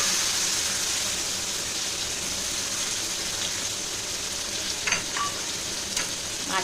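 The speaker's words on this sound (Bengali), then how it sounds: "আলু পেঁয়াজটা ভাজা হচ্ছে" Chopped potatoes and onions sizzle steadily in hot oil in a pan, an even close crackle with a few light stirring clinks near the end.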